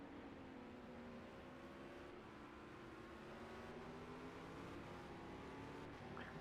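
Porsche race car engine in a historic sportscar racing game at Donington, a steady droning hum with slowly shifting pitch, continuous and moderately distant.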